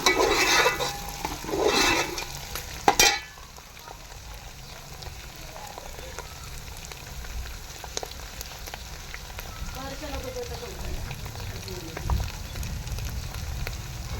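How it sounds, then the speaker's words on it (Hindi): Sliced onions frying in oil with garlic ginger paste for a meat wadiyan curry, giving a steady soft sizzle and crackle throughout, with a couple of louder stirring clatters near the start, heard up close. "इसी में डाल दिया मैंने लहसुन अदरक का पेस्ट भी, ताकि प्याज हमारे अच्छी तरह से फ्राई हो जाए।"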